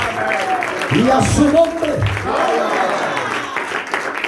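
Church congregation applauds, a sustained wash of clapping under a preacher's loud amplified voice speaking Spanish throughout.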